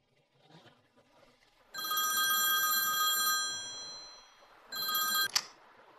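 A telephone rings while a call is being placed, a bright electronic trill sustained for about two and a half seconds, then a shorter second ring after a pause, fairly loud and close with no talk.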